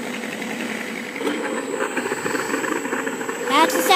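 An RC P-40N warplane engine plays as a sound effect, a steady droning buzz that swells slightly and stays loud and continuous, with voices faintly underneath.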